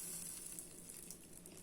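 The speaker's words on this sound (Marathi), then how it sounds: "रवा भाजत यालाय. ह्याच्यामध्ये तूप टाकून" Semolina roasting in ghee in a pan gives a faint, steady sizzle with a soft hiss, close and quiet, with no talking over it.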